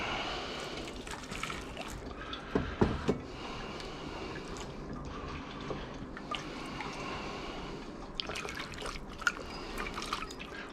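Water rinsing a small pile of recovered gold from RAM and BGA chips, with soft continuous trickling and scattered drips, faint and close, no talk.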